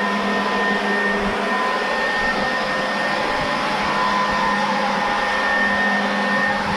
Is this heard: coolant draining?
no